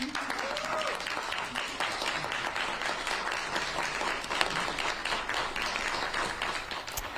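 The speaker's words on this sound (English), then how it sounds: "A round of applause for 69-year-old Maurice Hastings this afternoon." Courtroom applause breaks out for 69-year-old Maurice Hastings after his exoneration, a dense sustained clapping from a crowd of people filling the room, with voices faintly mixed in underneath.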